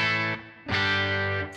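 An electric guitar rings through an overdrive pedal set to mimic amp distortion, played through a Super Reverb amp. Two loud, sustained, gritty chords sound up close, with a short gap between them.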